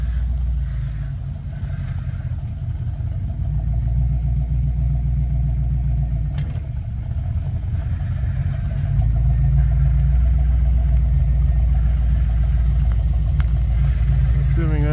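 An old Chevrolet squarebody truck, revived after sitting parked for 19 years, rolls along with its engine rumbling and a brake shoe or pad dragging, giving a steady low grinding drone that holds throughout.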